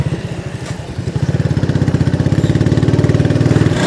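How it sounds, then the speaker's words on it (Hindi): A motorcycle engine running nearby in a village graveyard, a steady, loud, rhythmic thumping pulse that gathers slightly as it goes. "वो बाइक लेकर जा रहे हैं"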